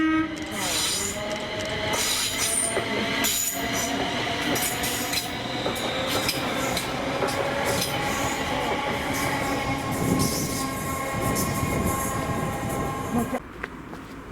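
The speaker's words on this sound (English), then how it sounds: "the 1710 Scotrail service to Glasgow Central from Ardrossan Harbour with 380" A ScotRail Class 380 electric multiple unit passes close by on the Ayrshire Coast line, a loud continuous roar of wheels and motors with squealing, whining tones sustained throughout before cutting off near the end.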